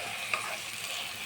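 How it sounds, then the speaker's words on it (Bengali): Goat meat and spice masala sautéed in a pan for a red curry, a brief soft sizzle with a light stirring scrape, close and steady. "এখন সেই কষানোর পালা, যত কষাবেন তত টেস্ট।"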